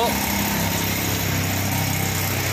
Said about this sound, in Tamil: நீஞ்சின்னு போகுது ஆட்டோ